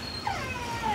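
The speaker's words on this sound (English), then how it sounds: "You're gonna hear the dog." A dog whining over a new bone it cannot bury, with a high, thin wavering whimper rising and falling softly across a quiet background.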